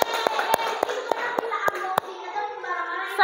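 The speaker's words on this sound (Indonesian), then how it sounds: "Tepuk tangan untuk kita semua." Scattered hand claps from a classroom audience, a handful of sharp separate slaps at an uneven pace rather than a full ovation, with faint background chatter.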